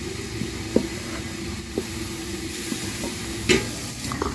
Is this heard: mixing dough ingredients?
yes